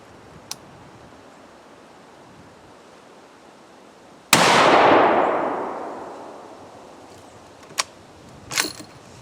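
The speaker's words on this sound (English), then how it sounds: "So we're going to put 5 rounds, and then we'll go take a look at the target." A Ruger American Ranch rifle in 5.56 NATO fires one loud, sharp shot at an outdoor range with a target about 100 yards away, and the report rolls away in a long fading echo. A few faint mechanical clicks come before and after.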